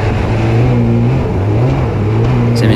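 A fast boat engine revs hard at speed, a loud, steady droning roar whose pitch rises and falls slightly as the throttle changes, with wind and water noise underneath.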